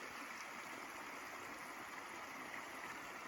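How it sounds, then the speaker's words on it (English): Small rapids in a stream run into a dam, giving a constant, even rush of flowing water with no pauses or voices. "And there's my little rapids."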